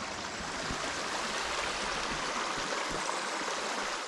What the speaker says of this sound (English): Nice beautiful little flowing creek.